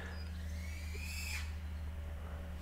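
An owl calls faintly among trees outdoors near a small flying cine drone, a single hoot-like cry sweeping across the steady low hum of the drone's motors.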